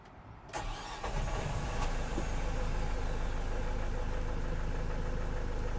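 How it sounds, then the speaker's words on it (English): A 2007 Renault Trafic van's 2.0 M9R diesel engine, with an air flow meter fault, cranks briefly, catches, and settles into a steady, loud rumbling idle with a rough, knocking edge. "I'm going to start the engine."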